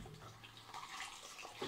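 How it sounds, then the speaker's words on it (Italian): Shaving tools are rinsed under a running tap in a bathroom sink, giving a steady, close wash of flowing water that splashes a little throughout. "Quindi risciacquo un attimo gli attrezzi."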